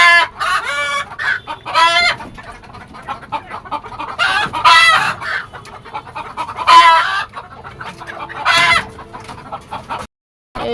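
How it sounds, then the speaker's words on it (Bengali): Frightened chickens on a rooftop farm cluck loudly and flap about in bursts while eggs are collected, with several overlapping calls across the clip and a brief crow among them. "মুরগির ডিম, আর মুরগি ভয় পেয়ে দাপাদাপি করতেছে"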